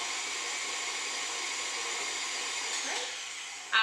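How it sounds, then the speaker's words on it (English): An electric mixer whirs steadily at medium speed while mixing cake frosting with powdered sugar, a constant even hum close by, with a brief clatter at the very end. "you can bring your mixer up a little bit to more of a medium speed to start getting it incorporated"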